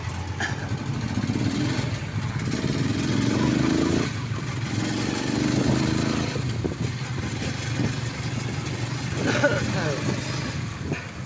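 A motorcycle-with-sidecar engine runs steadily nearby in Candaba, Pampanga, rising and falling in pitch as it revs, with people talking over it throughout.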